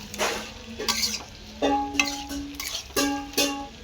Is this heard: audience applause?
no